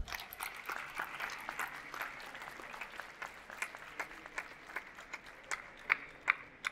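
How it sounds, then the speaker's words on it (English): Audience applause for an AI panel at a conference, a thin spread of individual claps, distinct and moderately distant, with a few louder claps near the end. "I want to begin with an applause to them"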